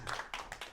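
Audience clapping at a spoken-word poetry lounge show: a few quick bursts of claps from a small crowd, brief and moderately close.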